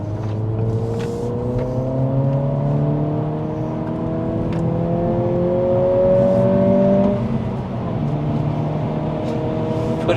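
A 2023 Acura Integra A-Spec on lowered Eibach springs and aftermarket wheels carries a steady engine drone from inside the cabin as it drives through a corner, rising in pitch as it accelerates, then easing off.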